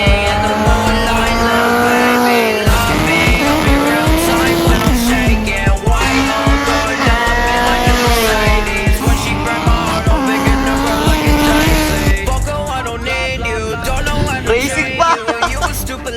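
Drag race cars with SOHC naturally aspirated engines at a 2025 NDRC Southern Series drag racing event, engines droning loud and steady with wavering revving tones and a faint voice now and then.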